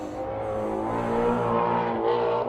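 A 2016 Ford Mustang engine revs in a loud, continuous snarl that rises and swells over a few seconds, with no voices.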